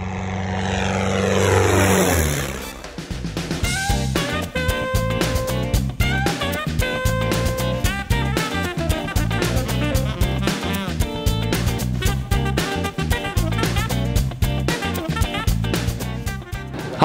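Microlight aircraft propeller engines at an outdoor air fair, a loud buzzing drone that shifts pitch early on, then settles into a steady, strongly tonal engine whine with no talking.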